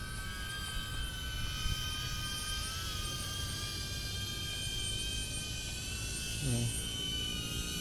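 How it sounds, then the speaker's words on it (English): A DJI Avata drone flies outdoors in strong wind, giving a steady, moderately loud propeller buzz and whine under gusty wind noise, with a short spoken word. "Yeah, the wind is too strong for the Avata."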